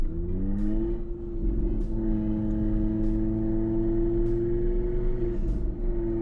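An Audi TT RS in Sport mode pulls away under acceleration, its five-cylinder engine rising in a sustained, loud rumbling drone with a few gear-change dips, heard close from inside the car.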